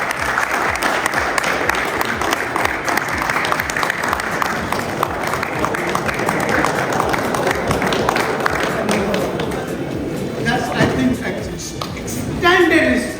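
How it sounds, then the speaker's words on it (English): Audience at a cricket association annual general meeting applauds steadily, a dense crowd clapping that holds for several seconds before thinning out, followed by scattered taps and a voice near the end. "Stand up and give him a good round of applause."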